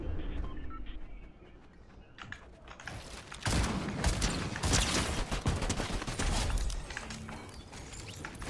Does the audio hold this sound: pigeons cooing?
no